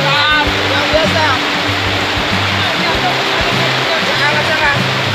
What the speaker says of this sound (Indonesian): Luar biasa hujannya sangat deras.